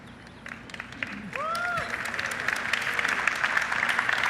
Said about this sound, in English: I can just say I'm pausing for applause